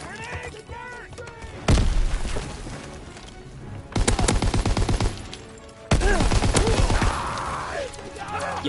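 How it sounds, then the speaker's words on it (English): Grenade blasts and gunfire in Call of Duty WW2 during a push through a warehouse. Three loud booming bursts, each followed by rapid gunfire, over continuous battle noise, with occasional shouted voices. "Grenade!"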